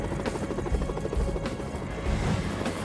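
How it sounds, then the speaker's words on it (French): Helicopter in a video game, a steady whirring rotor drone with a few sharp knocks, fairly loud and alone. "Visiblement, je viens de chercher un hélico."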